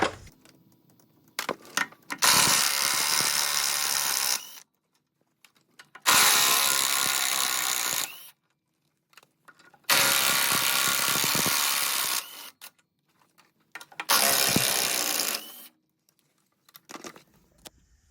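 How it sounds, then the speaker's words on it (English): Power tool or ratchet loosening 14mm Allen socket bolts on the drum of an FAE UML SSL 150 VT forestry mulcher, in four loud bursts of about two seconds each separated by quiet pauses, with no talk. "you can go through and knock out these 14mm Allen sockets"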